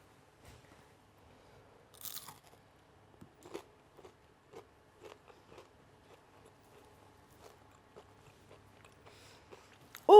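Homemade potato chips with a crispy exterior and fluffy inside are bitten and chewed, giving a quiet run of scattered crunches and small chewing clicks at close range, with no talk.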